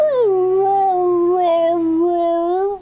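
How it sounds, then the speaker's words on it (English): A dog howls in one long, sustained, wavering note lasting nearly three seconds. The howl is loud and close, rises and dips slightly in pitch, and is heard alone without talk. "Made my dog howl."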